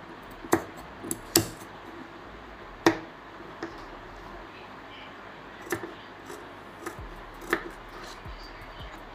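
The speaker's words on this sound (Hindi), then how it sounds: "फिर हम एक्स्ट्रा कपड़ा जो है वो कटिंग कर देंगे" Scissors cut off extra cloth while a baby girl's winter kurti is being sewn, giving sparse, sharp snips at irregular intervals over a quiet room background.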